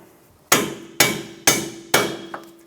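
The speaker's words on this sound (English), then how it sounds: "Using a hammer, we're going to tap it out." A hammer taps a bolt out of the steering knuckle during a front CV axle replacement on a 2012-2020 Chevrolet Sonic 1.8L, giving four sharp, evenly spaced metallic strikes and a lighter fifth tap, each ringing briefly and sounding close with no talk.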